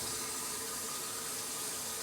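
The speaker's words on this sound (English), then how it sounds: "we've got the water running nicely now, as the taps have also been connected" Water runs steadily from newly connected kitchen sink taps, a continuous broadband hiss and splash with no one speaking.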